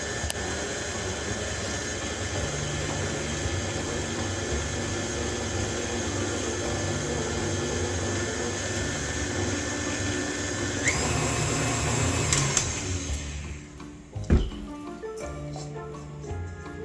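Electric mixer whirring steadily through caramel apple pie bar batter, a constant motor drone with a pitch shift near the end, then rattles and knocks as it slows and stops.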